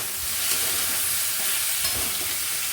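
Potatoes frying in a pan over a high gas flame, giving a steady, dense sizzle with soft stirring scrapes, loud and close throughout with no talking.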